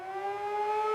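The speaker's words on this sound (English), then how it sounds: "air raid sirens have continued sounding through the night in Tel Aviv and Jerusalem." An air raid siren in Israel holds a steady, wailing tone unbroken for the whole second, loud and sustained with a clear pitch and faint harmonics above it.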